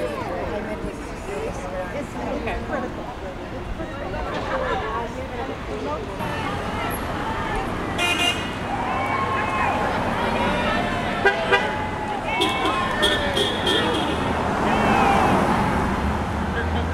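Car horns toot repeatedly from passing traffic at a Santa Barbara street protest over Proposition 4, short honks of varying pitch over steady roadway noise, with people talking and cheering nearby throughout.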